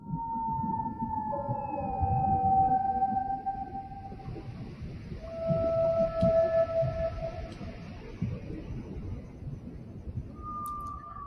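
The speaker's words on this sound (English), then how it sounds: "This new layer of sound that we've brought in is the recording from a womb." Whale song blended with a low, muffled recording from inside a womb: long tonal whale calls glide and sweep over a steady rumbling, pulsing low wash, moderately loud with no talk.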